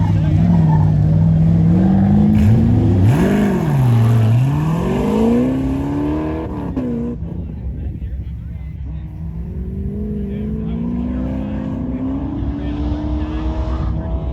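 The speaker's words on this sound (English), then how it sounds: "he's getting RPMs up there" An autocross car at an SCCA Sacramento event revs hard during a run, its engine pitch climbing, dipping and sweeping back up. The engine is loud and sustained at first and eases later, with voices faintly underneath.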